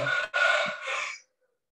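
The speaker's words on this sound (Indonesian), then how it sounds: "maaf kalau ada ayam di sini, kompleknya memang banyak ayam" A chicken crows nearby in a residential neighborhood, one loud drawn-out call in a few surges that ends abruptly into quiet.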